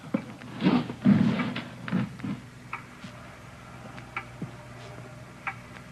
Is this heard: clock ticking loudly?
yes